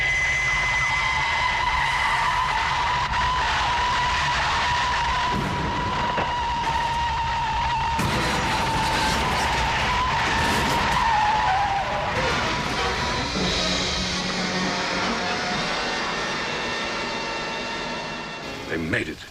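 Fireflash aircraft from Thunderbirds skidding under maximum braking, a long loud screeching whine over rushing engine roar that holds steady then fades toward the end, with voices talking over it.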